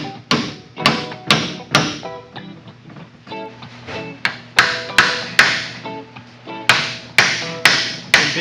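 An air chisel fitted with a pickle fork attachment hammers at the bushings of an older Honda Civic, firing in loud, close bursts of rapid metallic impacts separated by short pauses.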